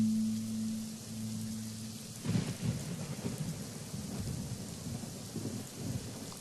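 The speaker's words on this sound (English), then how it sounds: "I added in the CGI rain." A sound-effect rainstorm added in editing, with steady rain and a rumble of thunder that swells about two seconds in. It carries on as a dense, even wash of rain, and no voices are heard.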